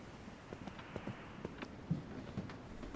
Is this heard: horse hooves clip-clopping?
yes